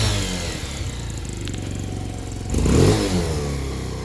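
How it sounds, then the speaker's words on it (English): A 2020 Vader Gen2 motorcycle engine idles with a steady mid-pitched drone, then a short, louder rev swells up and falls back toward idle, heard close with no talking. "All right, rev it up."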